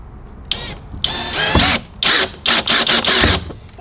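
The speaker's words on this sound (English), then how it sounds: "And we're gonna drill this back in." A power drill drives a fastener into an aftermarket protection part on a BMW M2 G87, whirring in several short, loud, close bursts separated by brief pauses.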